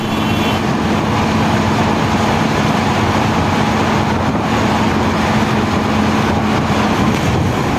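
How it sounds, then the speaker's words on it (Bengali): Express bus cruising fast along an empty expressway between Dhaka and Jashore, with a loud, steady broadband road and engine roar and a constant low hum throughout, heard from inside the coach. "আমাদের বাসটি এখন ফাঁকা এক্সপ্রেস হাইওয়ে পেয়ে মিনিমাম গতি ধরেই চলছে"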